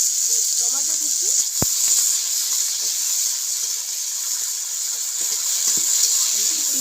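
Chopped onion, chili, garlic and tomato fry in hot oil, a steady loud sizzle and hiss running throughout, with a brief sharp clink of the stirring utensil and occasional scraping mixed in.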